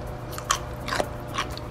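Bites into a crunchy homemade pickle, darker and slightly glassy-looking, give three sharp close crunches spaced about half a second apart over quiet room tone.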